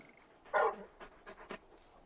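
A large dog panting in a video game, a few soft breathy bursts with a louder one near the start, fairly close and alone without speech.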